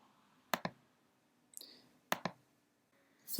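A computer keyboard is tapped in a few sparse bursts, two or three quick sharp clicks at a time with quiet gaps between, close and isolated.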